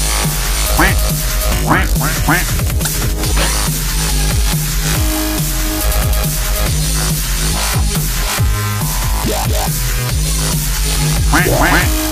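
Quacking duck sounds from a Minecraft Bedrock sound pack repeat in quick, rhythmic bursts over a loud, busy music track.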